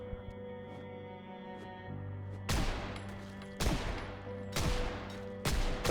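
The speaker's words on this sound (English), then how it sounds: "Starts shooting at them, they shoot back." Gunfire in the zombie survival game Project Zomboid: a steady hum gives way to four loud, sharp bursts of shots, spaced a second or so apart, each trailing off briefly.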